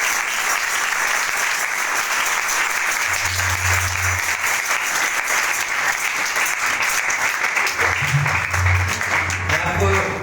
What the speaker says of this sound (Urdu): سو اپنے بادشاہ کے لیے تالی بجائیں